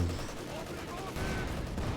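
A short-barrelled tank cannon fitted with a periscope fires in quick succession in a war video game, its shots blending into a dense, steady wall of battle noise.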